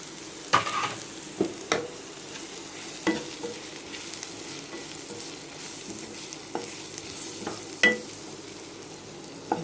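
Masala sautéing in a pan for a tomato kulambu, stirred now and then. A faint, steady sizzle is broken by occasional sharp scrapes and clinks of the spoon against the pan. No talking.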